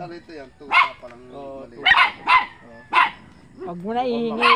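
A dog, once a puppy, gives several loud close barks and yips mixed with whimpering sounds, in short bursts with talking voices around.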